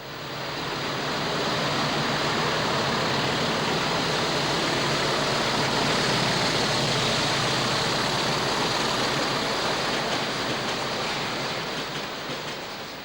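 Class 40 diesel locomotive 40158 hauling a Freightliner train to Holyhead in 1983, a loud, steady roar of engine and rolling wagons that swells and holds for the whole stretch with no talk.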